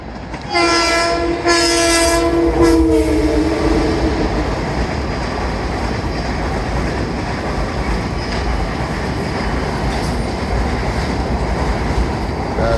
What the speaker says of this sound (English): There's a Long Island Railroad going into Penn Station.